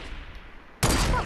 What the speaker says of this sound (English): Fuck, they shot me.